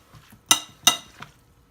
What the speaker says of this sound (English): Going to give it another stir.